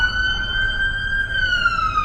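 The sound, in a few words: siren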